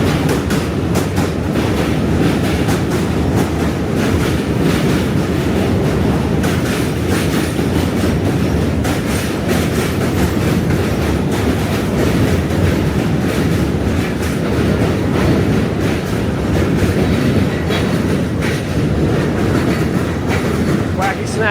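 A New York City subway train arrives at a station, a loud continuous rumble with rhythmic clickety-clack of wheels over rail joints and steady metallic noise, with someone speaking faintly beneath it.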